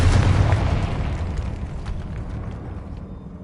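Confringo blasting spell explosion in the Hogwarts Legacy video game on PS5: a loud, broad boom that hits at once and then rumbles and slowly fades over a few seconds, with no talk.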